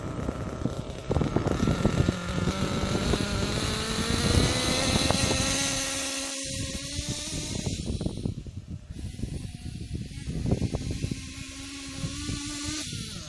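A small nitro RC engine running rich screams at full throttle, high-revving, buzzy and uneven, with sputtering dips and surges throughout.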